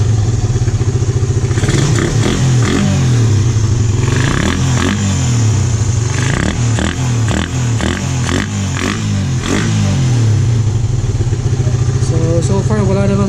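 A Raider 150 motorcycle engine fitted with a 30mm Keihin carburetor idles loudly and close by with a steady, slightly uneven chug throughout, while someone talks over it.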